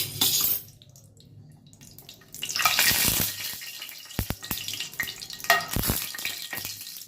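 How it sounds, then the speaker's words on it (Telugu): Ghee heats in a pan for a soya-chunk halwa, giving a hissing, crackling sizzle that rises and falls in bursts, punctuated by a few sharp clicks and knocks near the stove. No one speaks. "గీ వేడి చేసుకుంటున్నాను అండి నేను"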